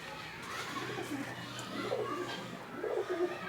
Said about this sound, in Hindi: कुछ कबूतर अंदर चले गए हैं।